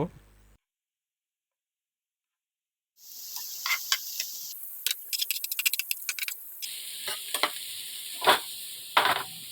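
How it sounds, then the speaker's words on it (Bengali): Mixed vegetables stir-frying in a pan for Chinese fried rice: after a brief silence a steady hiss of sizzling starts, broken by rapid clattering scrapes and taps of the spatula, close and fairly loud. "সবজিগুলো ভালো করে ভেজে নিব।"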